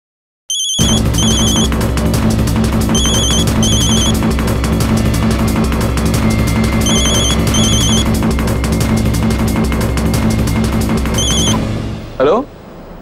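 A phone rings in repeated short electronic trills, with busy voices and background noise underneath that stop near the end.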